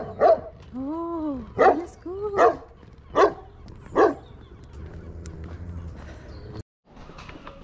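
A dog in a village lane near Viveiro on the Spanish Cantabrian coast barks five times in a loose sequence, sharp and close, then goes quiet while someone speaks briefly.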